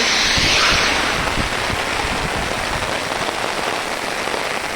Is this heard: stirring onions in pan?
no